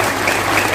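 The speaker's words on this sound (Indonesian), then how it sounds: "Tepuk tangan untuk Semarang." Crowd applause at a live anniversary celebration for Semarang regency, a loud, dense burst of clapping that fills the whole moment without speech.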